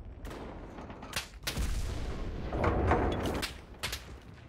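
Distant, muffled gunshots and booming fire in the World War II shooter Enlisted, several separate bursts and cracks rolling over a rumbling battlefield background.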